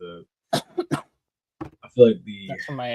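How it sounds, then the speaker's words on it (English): A few sharp, close coughs burst out in quick succession, followed by a short throat-clearing rasp. "I've been coughing nonstop."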